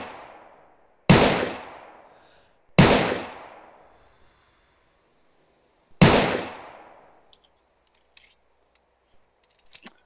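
Pistol fire at targets in ArmA 3 with the WWII IFA3 mod, three loud, sharp single shots spaced a few seconds apart, each with a decaying echo, followed by faint clicks and handling noises.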